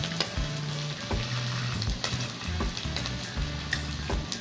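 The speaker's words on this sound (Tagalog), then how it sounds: "ang niluluto namin na fried papaya balls" Steady crackling and sizzling of papaya balls frying in hot oil, with occasional clinks and stirring noises underneath.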